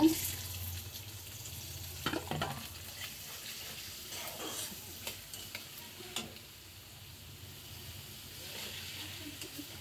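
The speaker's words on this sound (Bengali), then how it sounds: "আর এখানে পেঁয়াজ আর আলু আছে, এটা ভেজে নিব।" Sliced onion and potato fry quietly in a pan, a soft steady sizzle broken by repeated spatula scrapes and stirring taps against the pan.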